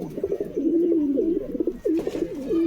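Pet pigeons kept for sale coo in repeated low, rolling phrases, close and clear, with a brief pause partway through before the cooing resumes.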